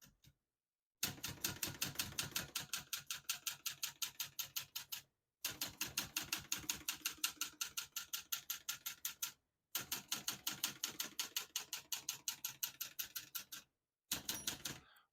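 Steady, rapid keystrokes clack on a 1970 Olivetti Lettera 32 portable typewriter in three long runs, each separated by a brief pause, with a short final burst; close and distinct, with no voices.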